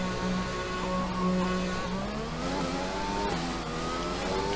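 A Formula 1 car in the F1 2020 video game accelerates out of the pits, its high-pitched engine climbing through the gears with rising, continuous revs and a brief slide, heard alone with no talk.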